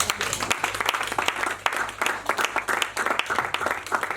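A church congregation applauding, steady rhythmic clapping from many hands filling the room, loud and close with scattered voices beneath.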